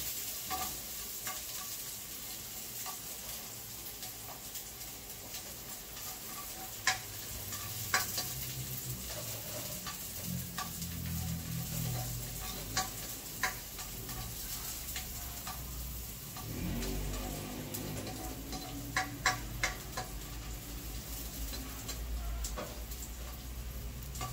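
Garlic frying in a pan, a soft steady sizzle with scattered clicks and scrapes of stirring, and a louder hiss swelling midway as the garlic hits the oil.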